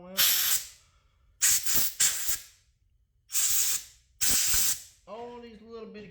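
Aerosol cleaner sprays in several loud hissing bursts, some long and some short, while cleaning the carburetor of a Briggs small engine up close; someone speaks briefly at the end.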